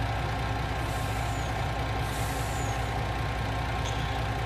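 A truck passes on a highway, filling the whole stretch with a loud, steady rumble of engine and road noise and no breaks.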